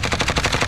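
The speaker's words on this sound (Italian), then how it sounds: "E poi mi ha sparato un altro da destra" Rapid automatic gunfire in a shooter video game, a loud, close burst of evenly spaced shots rattling off in quick succession for under a second.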